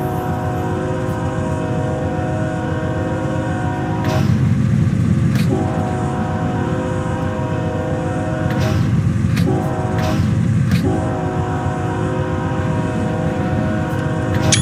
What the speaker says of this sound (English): Let's blast the horn.